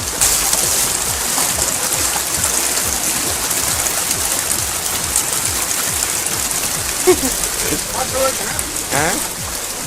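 Rainwater running through a narrow street lane in Badami after a night of continuous heavy rain, a dense steady rushing and splashing with scattered drips, close and constant throughout.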